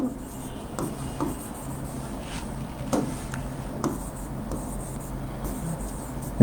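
Marker or chalk scratches on a board during a chemistry lecture on periodic properties and chemical bonding, short strokes in an irregular rhythm over a steady room hum, with soft taps between.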